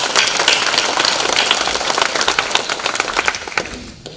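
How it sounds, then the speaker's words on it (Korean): A hall full of guests at a Korean high school alumni association inauguration ceremony claps together in a dense, sustained round of applause. It is loud and close, then thins into looser, scattered claps near the end. "다시 한 박수 쳐보죠"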